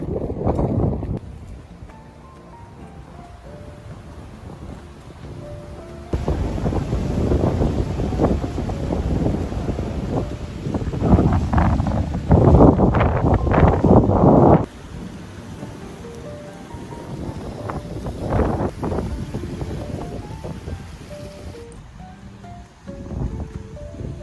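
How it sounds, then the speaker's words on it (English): Wind gusts blow steadily across the microphone outdoors on a cold, windy walk to a campus gym, with loud rumbling buffets rising and falling throughout and no talking. "it's cold and it's windy"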